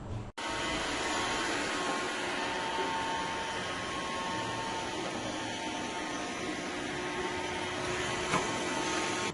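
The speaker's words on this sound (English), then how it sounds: "Here's a quick video of the Roomba 675 in action." An iRobot Roomba 675 robot vacuum runs with a steady, even whir and hiss of its motor and brushes, a constant close hum with no voices over it.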